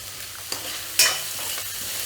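Spring onion being stirred into Manchurian in a hot pan, a close sizzle with a sharp scrape of the spoon and a brief louder burst, no talk.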